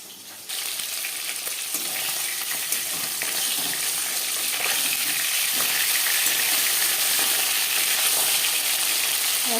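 Katla fish frying in hot oil, a loud dense crackling sizzle that jumps in abruptly after a moment and then holds steady and close, with faint spattering throughout.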